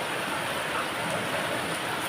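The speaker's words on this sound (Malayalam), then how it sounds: "നമ്മളിപ്പോൾ ഭയങ്കര മഴയാണ്." Heavy rain pours steadily outdoors among coconut trees, a dense, even hiss with no breaks, continuous throughout.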